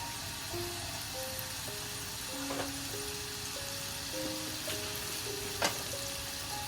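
A tablespoon of unsalted butter melting in a pan gives a steady, close sizzle, with a faint melodic tone and a few small clicks running over it.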